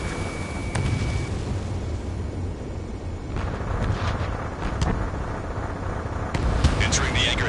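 A missile explosion destroys a vehicle in a video game, heard as a sustained loud roaring blast with scattered crackling bursts and sharp pops layered over a dense background rumble.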